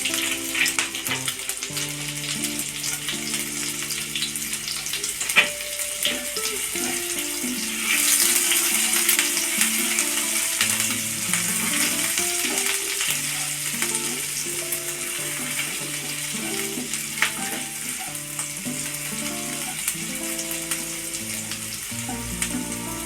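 Chopped green chili fries in oil in a pan over a low flame while paneer malai kofta is being cooked. A constant close sizzle runs throughout, with light stirring scrapes and no talking.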